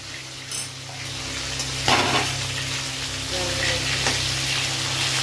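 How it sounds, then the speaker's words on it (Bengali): Hilsa fish heads frying in hot oil, a steady close sizzle broken by a few clattering stirs and utensil knocks against the pan, with no one speaking. "ভালো করে মাছের মুড়োগুলো ভেজে নেব"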